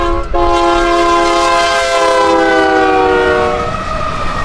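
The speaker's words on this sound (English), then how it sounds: "the train is here, blowing the horn to make sure the employees on the ground know he's here" A Union Pacific freight train with four lead engines sounds its horn in one long, loud, steady multi-tone blast lasting several seconds, with rail rumble underneath as the chord fades out.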